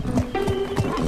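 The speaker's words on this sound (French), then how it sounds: "Ce n'est qu'un poney." A pony whinnies in a few rising and falling calls, with hoofbeats clopping underneath, close and fairly loud.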